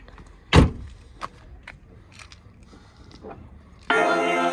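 A car door thumps shut once near the start, followed by quiet cabin shuffling and a few soft knocks, then a steady engine or blower hum comes on at the end, on Tenerife before a drive up to El Teide.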